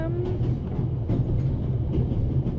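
Interior of a moving train in the game The Raven, a steady low rumble with rhythmic rail clatter, close and continuous, no talking.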